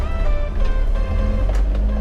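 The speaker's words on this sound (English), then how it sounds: "Give it a few revs and handbrake off, and let's get rolling." A shortened ten-foot Alfa Romeo pulls away after a few revs, its engine a steady low rumble with some higher whine that holds fairly loud through the whole stretch.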